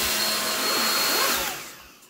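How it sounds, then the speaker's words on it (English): A handheld hair dryer blows a steady, loud whooshing roar while drying a girl's hair, holding constant before fading away as it is switched off or moved aside. "is I'm gonna blow dry it with this"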